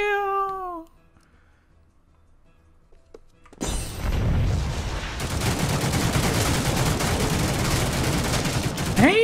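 Shotgun fire in a video game bursts in after a few seconds of near silence that opens with a short cat-like cry, then turns into a loud, sustained barrage of blasts and rattling gunfire.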